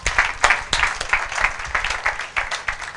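A church congregation clapping and cheering in acclamation during a French-language sermon, bursts of applause rising and falling across the room with scattered louder claps, lively and close.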